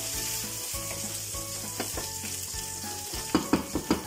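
Green chili peppers hit a hot frying pan and sizzle softly and steadily, with a few sharp clinks and stirring knocks near the end, while garlic cooks for anchoas a la bilbaína.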